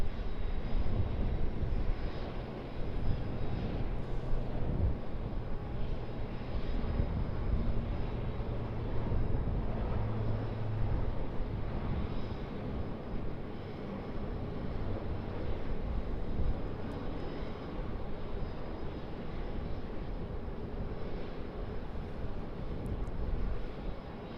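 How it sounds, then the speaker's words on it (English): An Air New Zealand Boeing 777-300ER pushing back from the international terminal at Sydney Airport gives off a steady, continuous low engine rumble and airport hum at moderate distance, with no talk. "Air New Zealand Boeing 777-300ER pushed back from the international terminal"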